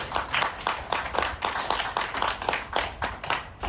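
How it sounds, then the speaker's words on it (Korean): A church congregation at a prayer meeting breaks into sustained applause, dense rhythmic clapping from many hands filling the room steadily and loudly without voices. "우리를 이곳에 부르신 하나님께 영광의 박수 올려드립시다"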